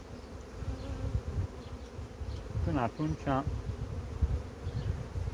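Honeybees from a colony in swarming fever buzz steadily around a hive, a close, continuous drone with a few louder passes, while someone talks quietly over it.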